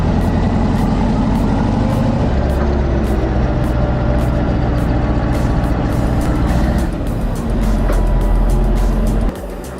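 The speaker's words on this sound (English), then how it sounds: "That D11 is an absolute monster. Pulling all that weight up a 4-degree incline with such ease shows true brute strength." A Caterpillar D11 bulldozer hauling a heavy load up a slight incline, its deep diesel engine droning loud and close without a break, the low rumble shifting in pitch as the load changes and easing off near the end.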